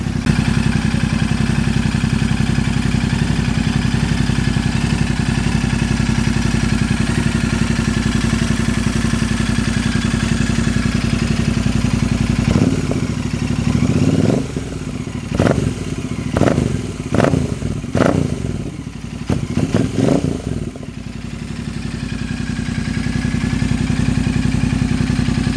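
A Royal Enfield Super Meteor 650 motorcycle with a loud aftermarket exhaust idles with a deep, steady rumble, then drops away before a quick run of sharp throttle blips and crackles, settling back to idle.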